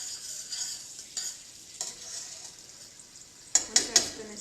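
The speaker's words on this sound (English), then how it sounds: "You hear that sizzling?" A soft, steady hiss of vegan margarine sizzling in hot oil in a pan, with faint scattered pops and a few sharper clinks of a utensil against the pan near the end.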